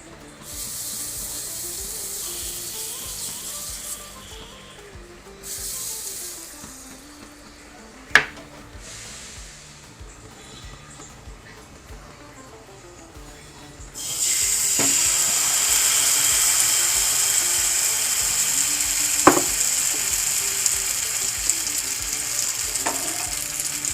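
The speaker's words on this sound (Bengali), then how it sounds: "কড়াইতে ননস্টিক তাওয়াতে একটু বাটারটা ব্রাশ করে নেব" Quiet clinking and scraping at first, then a loud, steady sizzle of butter on a nonstick pan for appam takes over for the second half, broken by an occasional sharp tap.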